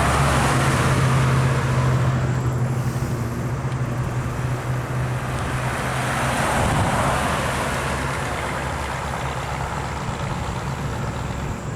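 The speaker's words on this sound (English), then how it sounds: "I think that's the Beetle coming" A Volkswagen Beetle approaches on a road, a steady engine and tyre rumble that swells slightly and stays fairly loud throughout, with no talk.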